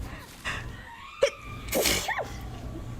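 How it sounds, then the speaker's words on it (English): A single sharp sneeze, triggered by bright light, bursts out close and loud after a brief intake of breath, then trails off into a quiet room tone. "You know how when you look at a bright light, that'll force a sneeze out?"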